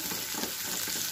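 Garlic frying in hot oil in a pan for Gobi Manchurian, a continuous dense crackling sizzle heard close and steady, with no talking.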